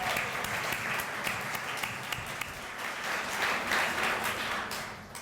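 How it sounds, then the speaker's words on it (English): Applause fills a room of teachers at a public education event, a dense, fairly steady wash of clapping with some sharper individual claps, heard at moderate distance without talk over it. "I'm going to clap for y'all."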